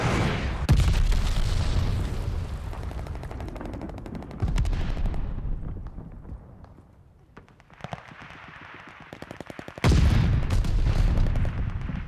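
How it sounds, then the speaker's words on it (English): Glide bomb explosions and heavy gunfire in Call of Duty: Vanguard multiplayer, with loud rolling blasts and rapid shots in bursts that dip to a quieter stretch before a fresh loud burst near the end. "Enemy glide bomb coming in hot!"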